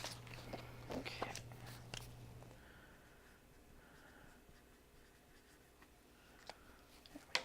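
A pen scratches in short strokes across a Halloween decoration, faint and close in a quiet room, with a few light taps and handling noises and no talking.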